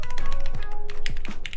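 Rapid clacking of keys typed on a plateless mechanical keyboard with switches mounted straight to the PCB and PBT keycaps, close and loud with uneven rhythm.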